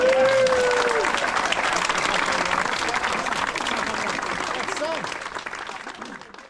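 A crowd of runners at the briefing for the inaugural Parc Coed Gwilym parkrun in Clydach gives a sustained, close round of applause that slowly tapers off.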